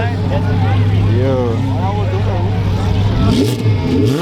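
A car engine revs near a street crash scene, rising and falling in loud throaty surges over a steady low rumble, with people talking close by through much of it.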